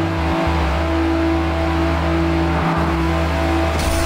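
In a highway racing video game, a race car's engine drones loud and steady at speed, with brief shifts in pitch near the start, middle and end.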